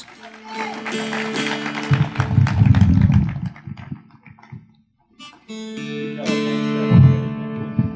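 An audience claps at an evening folk festival concert after a dulcimer performer, a dense burst of applause that fades, with talk heard before and after the clapping.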